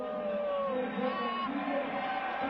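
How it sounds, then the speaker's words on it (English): Football stadium crowd at an XFL game, San Francisco Demons vs Las Vegas Outlaws, a distant sustained roar and cheering on third down, steady under a commentator's voice. "Crowd is up on a 3rd and 4 here."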